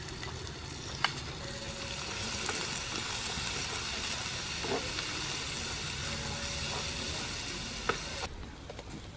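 Onions and salt sizzle in a hot pan for a Kerala-style quail pepper roast, a steady close crackling fry with a few light stirring clinks, no talking.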